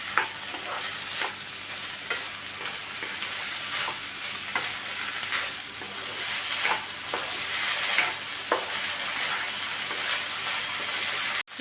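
Cooked barley is stirred and fried in a hot pan, giving a steady sizzle broken by regular scraping strokes of the spoon, close and continuous.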